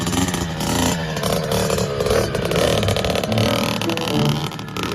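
A Kawasaki KX65 two-stroke dirt bike engine revs hard and continuously, a buzzy, raspy nearby whine rising and falling with throttle under steady load, with no talk.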